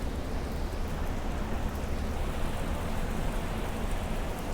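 Steady, dense hiss of rain pouring down, constant and close, with no voices.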